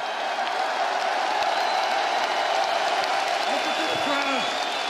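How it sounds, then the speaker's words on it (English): A UFC 286 arena crowd cheers and applauds continuously after a welterweight title fight, a dense roar of clapping and whoops filling the space, with a commentator's voice faintly under it. "Listen to the crowd, DC."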